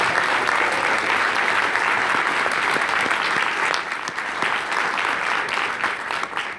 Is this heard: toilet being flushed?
no